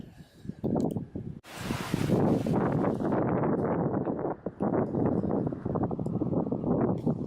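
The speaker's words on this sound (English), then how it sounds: "It's a bit of a windy day." Strong wind buffets the microphone outdoors at Corfe Castle village beside a stream, giving a loud, continuous rumbling roar in gusts that nearly drowns everything else for several seconds.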